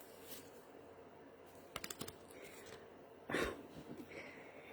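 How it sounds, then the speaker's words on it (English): Someone quietly shuffles a thick deck of affirmation cards, giving a few quick crisp clicks and then a louder papery riffle over faint room noise. "you can see that I'm shuffling them, and there's a lot of cards"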